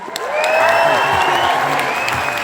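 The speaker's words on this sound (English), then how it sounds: "Give them a round of applause" A Comic-Con Liverpool crowd applauds and cheers for David Harbour after a Q&A, loud sustained clapping with whoops and shouts rising over it, a voice briefly audible beneath.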